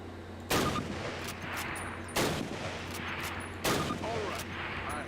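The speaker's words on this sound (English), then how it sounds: "Now fire 2 rounds at your target while aiming down your sight" Three loud, booming carbine rifle shots from Call of Duty, spaced about a second and a half apart, each with a long reverberant tail over a low background hum.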